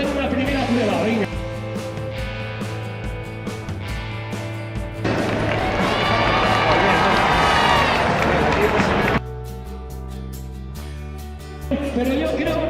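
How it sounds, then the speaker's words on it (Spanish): A large crowd at the Valencia Trinidad Alfonso marathon (2017) claps and cheers loudly on cue during a pre-race warm-up, a thick roar of applause and shouting that swells and breaks off, with an announcer's amplified voice and background music around it. "a la de 3 vamos a dar un estruendoso aplauso"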